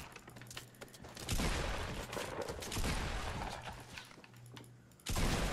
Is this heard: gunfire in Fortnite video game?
yes